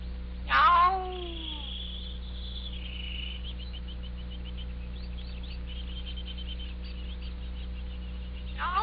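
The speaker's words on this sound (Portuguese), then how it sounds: "Então este é o gato." A cat meows once near the start of an old Brazilian Mazzaropi comedy film scene, a clear falling cry. Afterwards only faint room hiss and a steady low hum remain.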